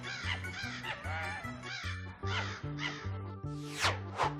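Animated cartoon crow caws in a fox-and-crow fable: a run of loud, harmonic, rising and falling calls repeated over a steady rhythmic musical beat.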